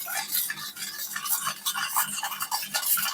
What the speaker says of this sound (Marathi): आता हे जे मिश्रण आहे ते सर्व आपल्याला मिक्स करून घ्यायचं आहे साखर पूर्णपणे विरघळून घ्यायची आहे